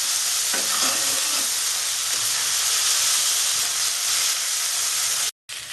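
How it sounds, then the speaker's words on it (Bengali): Chopped onion and capsicum fry in a pan for a Bengali-style egg tomato fry, giving a loud, steady, close sizzle that holds throughout before cutting out briefly near the end. "পেঁয়াজ আর ক্যাপসিকাম নরম করে ভেজে নেবো"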